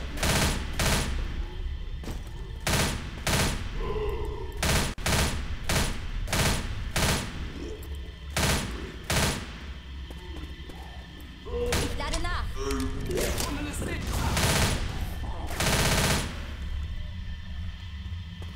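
Gunfire in Left 4 Dead: repeated loud shots in bursts and single cracks spaced through the clip, with talk mixed in among them.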